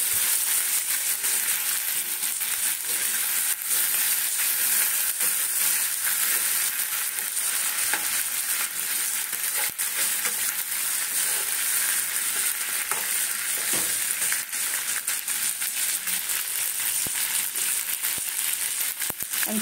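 Tomatoes frying in a pan for a chickpea snack recipe, a dense continuous sizzle with occasional soft stirring clicks throughout.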